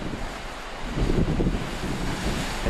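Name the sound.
ocean waves rolling in on the coast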